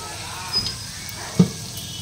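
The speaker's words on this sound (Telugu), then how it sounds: "అల్లం వెల్లుల్లి పేస్ట్ వేసుకోవాలండి దాన్ని మంచిగా వేయించుకొని" Onions and ginger-garlic paste fry in a pan for gongura chicken, giving a steady low sizzling hiss with a soft clatter or two partway through.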